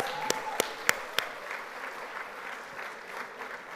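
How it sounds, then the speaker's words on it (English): Audience applause at an Asian American Heritage Month event, a soft, fairly distant patter of clapping with a few sharper isolated claps near the start, fading to a low murmur. "Please give them a round of applause."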